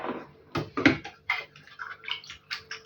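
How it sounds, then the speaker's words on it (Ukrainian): Cherry juice drains and drips from strained cherries into a container, a series of close, irregular wet spatters and trickles. "я знову проціджую вишні, відділяю сік від вишень."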